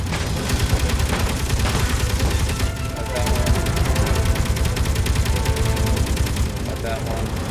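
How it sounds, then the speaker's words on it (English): Continuous, loud machine gun fire rattles without pause during a raid in Space Engineers, with a dense, steady stream of rapid shots and a voice talking beneath it. "Ground-based machine guns, but those we don't have to worry about."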